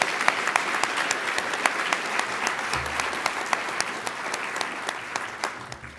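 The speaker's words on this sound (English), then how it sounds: "Give him a round of applause" A conference audience at the Cayman Islands Healthcare Conference gives a former Minister of Health a round of applause. Dense, steady clapping from many hands fills the hall for several seconds, then tapers slightly at the end.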